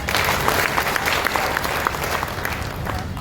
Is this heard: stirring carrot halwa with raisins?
no